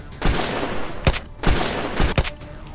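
Rapid bursts of gunfire in the video game Unturned while guards are shot: loud, close volleys of automatic fire in three or four quick clusters with short gaps between them.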